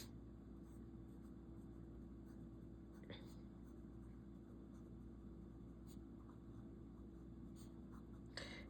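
A Pilot Custom 92 fountain pen with a broad nib writes on paper, giving a faint, steady scratch with a few soft stroke ticks over a constant low room hum.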